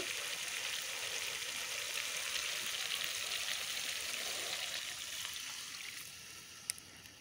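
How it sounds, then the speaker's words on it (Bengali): Water pours steadily into a pan of rui fish and potato curry with a continuous splashing, hissing rush that eases slightly toward the end. "এখন আমি পরিমাণ মতো জল দিয়ে ঝোলটা দিয়ে দেব"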